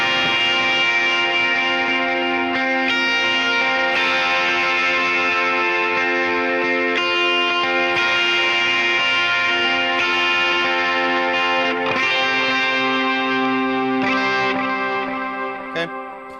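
Clean lead electric guitar rings out mid-range chord shapes with chorus and echo effects, each strum left to sustain and shimmer, several re-struck over a long, smooth wash that tapers off at the end.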